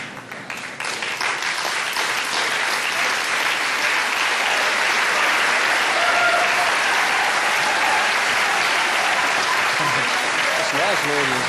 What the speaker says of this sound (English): Now there must be people outside applauding them.